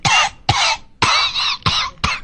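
A voice mimics a woman's hard, forceful cough, five harsh raspy bursts in quick succession, loud and close with short gaps between them.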